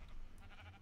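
A sheep bleats faintly in the Minecraft video game, a short thin call heard alone against a low background hum.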